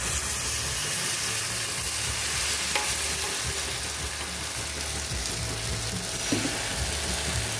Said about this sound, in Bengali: তাওয়ায় তেল দিয়ে দিয়েছি, প্রচুর গরম আছে তাওয়া।